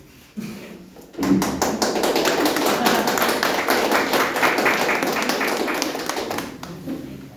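Congregation applause at an evangelistic church gathering, a short burst of claps then a sustained, loud wave of hand clapping that slowly tapers off, with a voice speaking briefly before it starts.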